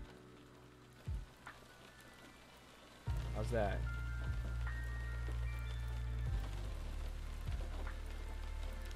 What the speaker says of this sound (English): I gotta pop up the rain ambience as well there, guy.